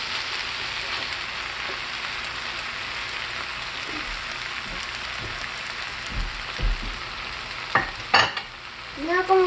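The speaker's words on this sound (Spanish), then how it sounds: "Ahora vamos a echar los camarones ahí" Shrimp sizzle steadily in a hot pan for pasta, with scraping stirring strokes growing louder near the end and a faint voice in the background.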